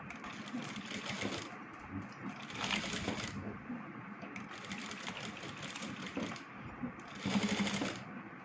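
A sewing machine stitches straight lines along fabric strips in bursts of rapid mechanical whirring, starting and stopping about four times, fairly close and with faint background sound between runs.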